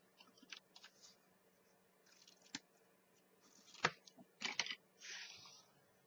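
Scissors cut out a paper doll in quiet, scattered bursts of snipping and paper rustle, with several sharper crisp snips and short slides of the blades, close by with no talk.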